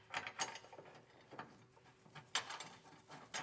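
Bolts with conical tooth washers being threaded into the frame of a 2025 Ram 2500 truck, faint close ratcheting clicks and metallic turning sounds in short irregular bursts with quiet pauses between.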